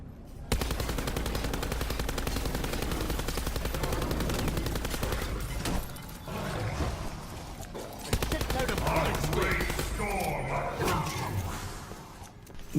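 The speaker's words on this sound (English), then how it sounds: "Just shoot at all of them, then they'll sink back up into the roof after you put enough bullets into them" Sustained automatic gunfire in a Call of Duty zombies map as bullets are pumped into barrier screws on the windows, rapid loud bursts running almost nonstop with a short lull midway and other game sounds mixed in.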